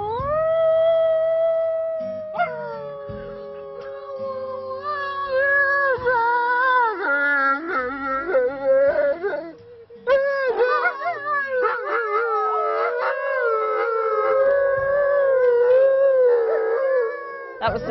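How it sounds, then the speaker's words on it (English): A pack of wolves in the Lake District howls together in a family bonding chorus, with several long, overlapping howls rising and falling. It is loud and close and fills the whole stretch with only brief gaps. "The one that we're going to do is a family bonding howl, and this bonds the pack unity."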